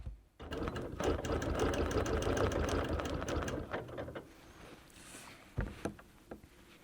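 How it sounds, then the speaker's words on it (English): A Sunbeam sewing machine runs steadily while quilting, a dense continuous mechanical whir lasting several seconds, then stopping and giving way to a few short stitching bursts and clicks. "just continue stitching all the way around"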